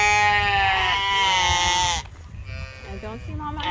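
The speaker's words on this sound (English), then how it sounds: "we're going to feed the sheep so that they settle down." A sheep on a wool-producing farm lets out a long, loud, wavering bleat, followed by shorter, softer bleats nearby.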